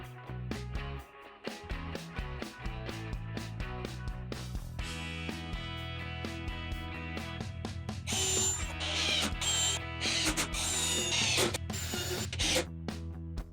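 A power driver sinks screws into wood while a planter trellis panel is assembled. Ratcheting mechanical whirs come in bursts, loudest toward the end, over a steady musical background.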